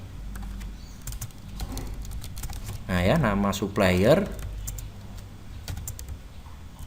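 Quick, light clicks from a computer keyboard while SQL insert statements are typed into a Visual Basic 6 database program. The soft tapping runs steadily in the background, and someone speaks briefly over it.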